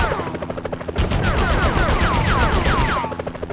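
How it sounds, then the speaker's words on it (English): Rapid machine-gun fire rattles in dense, continuous bursts during Spider-Man gameplay on PlayStation, loud and close, with sweeping whistling tones layered over the middle stretch before the shooting thins out. "Enough with the shooting already!"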